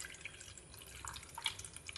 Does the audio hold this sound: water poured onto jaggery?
yes